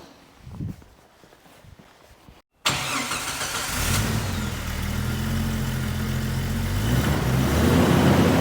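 A 1994 Jeep Wrangler YJ inline-six starts up after a few quiet seconds of faint movement, then settles into a loud, steady engine drone that builds as it pulls away, close and alone with no talk.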